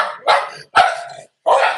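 Two dogs barking in three loud, close bursts with short silent gaps between, sharp and insistent, with no voices over them.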